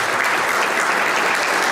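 Sustained audience clapping fills a community event hall, a thick, unbroken patter of many hands that stays loud and level for nearly two seconds, with no talking on top.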